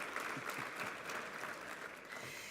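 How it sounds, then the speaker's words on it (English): Audience at a State of the State address applauding a jobs announcement: a short, even burst of clapping heard from a distance, fairly faint and without talk. "Yes, we need to applaud for that."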